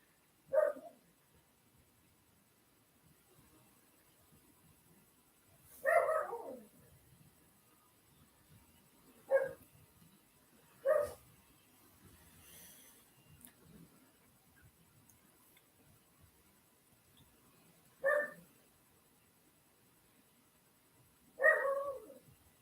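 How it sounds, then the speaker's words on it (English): A hyper dog gives six sharp single barks spaced irregularly several seconds apart, faint and somewhat distant in an otherwise quiet room. "the dog's being a bit hyper, obviously."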